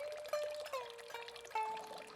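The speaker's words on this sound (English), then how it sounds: "a wooden ladle used to gather water pouring from a bamboo spout, or kake" A thin stream of water pours from a bamboo spout into a stone tsukubai basin in a Japanese tea garden, a steady, gentle trickle with small splashy bubbling, close and alone.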